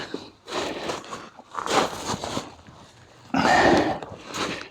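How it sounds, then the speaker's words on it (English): A small dog barks in a garden in several sharp, close bursts with short gaps between them, one burst louder near the end. "when he's in my arms he will stop barking"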